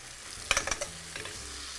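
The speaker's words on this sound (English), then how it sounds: "You can just get all this stirred right in." Roasted king trumpet mushrooms with basil are stirred in a hot pan, a few quick scraping clicks over a soft continuous sizzle, close by.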